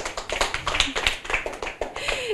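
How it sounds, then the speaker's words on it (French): A small group applauds a child after a book presentation, light, sparse claps in a quick uneven rhythm, close and moderately loud, with a few voices mixed in. "on applaudit tout de même Adli Marie"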